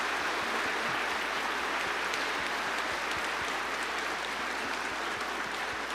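Church congregation applauding the children at a Sunday Mass for the feast of Our Lady of Aparecida: sustained, even crowd clapping filling the room, moderately distant and steady for the whole stretch, with no voices over it.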